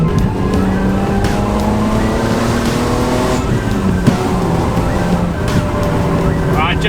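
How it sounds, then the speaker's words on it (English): A Ford BA Falcon fitted with upgraded Brembo brakes drives along a road, its engine droning loudly and steadily throughout with constant road and tyre noise, while someone talks over it from inside the car. "we're just going to make sure that the Brembos are pulling up alright and see how we go from there"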